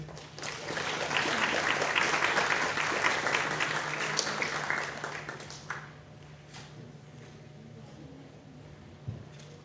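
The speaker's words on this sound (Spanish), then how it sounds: "Por favor, la recibimos con un fuerte aplauso." An audience at a talk on jaguar biotechnology and conservation applauds to welcome a scientist, clapping that swells early, then thins and fades over the final seconds.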